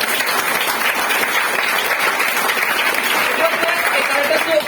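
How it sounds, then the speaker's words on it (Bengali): An audience at a product training session in an office bursts into sustained applause, a dense, loud wash of clapping that fills the room. "এটার জন্য একটা তালি হওয়া দরকার ছিল।"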